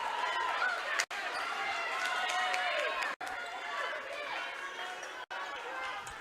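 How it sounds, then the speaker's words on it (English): Steady crowd noise fills a high school volleyball gym during a Stratford versus Phillips match, a broad continuous roar with scattered shouts that cuts out in brief drops, with a voice talking over it. "Crowd picking up the noise."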